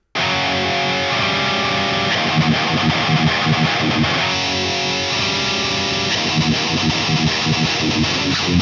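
Heavy distorted electric guitar played through a cabinet impulse response, a loud, dense, continuous riff with chugging palm-muted rhythms and no voices.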